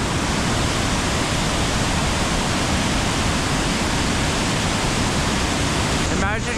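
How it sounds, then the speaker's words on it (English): A huge river waterfall roars in a steady, loud, broadband rush of falling water that fills the whole stretch without pause, heard up close with no voices. "Then you got the huge falls."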